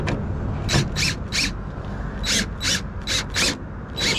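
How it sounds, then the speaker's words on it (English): Screw gun driving screws back into a car's LED reverse light housing, giving a run of about ten short, loud, evenly spaced ratcheting whirs close by. "Screw gun."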